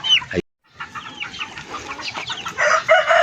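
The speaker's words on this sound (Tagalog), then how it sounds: "yung second batch natin na sisiw" A flock of chickens and young chicks on a backyard farm cluck and cheep in overlapping bursts, fairly close, with a brief silent gap near the start and busier calls toward the end.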